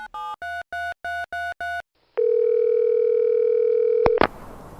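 An international phone call to a Swedish number: seven short keypad tones in quick succession, a brief pause, a long steady line tone for about two seconds, then clicks as the call connects.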